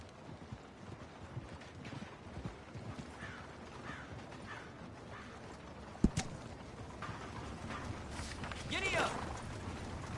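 Horse hooves clip-clopping in a video game, a steady rhythmic trot with creaking and wind-like noise throughout, a sharp knock partway in, and voices talking over it.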